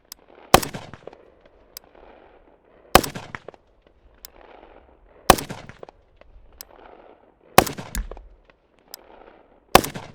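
Modern AK rifles fired on a hill, five loud single shots spaced roughly two seconds apart, each with a short echoing tail across open ground.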